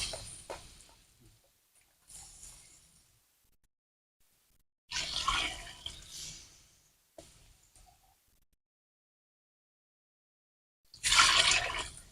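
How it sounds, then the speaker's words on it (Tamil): Water is poured from a cup into a pot of chicken biryani being cooked outdoors in a garden, coming in four separate splashing pours with quiet gaps between them. "இப்ப நம்ம பிரியாணிக்கு தேவையான அளவு தண்ணி சேர்த்துக்கிறோம் நாலே கால் கப் சேர்த்துக்கிறோம்"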